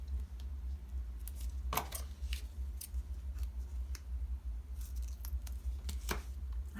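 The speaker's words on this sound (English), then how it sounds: "I love this dollar store foam tape. It's a little bit of a pain to have to cut it" Scissors snip through dollar-store foam tape during card making, making a series of quick, crisp cuts at an irregular pace. The sound is close but fairly quiet, with no voices.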